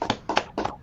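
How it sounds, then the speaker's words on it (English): A few people clap for a new member joining a podcast, three or four quick bursts of light, close handclaps with gaps between them. "Give it a round of applause for him"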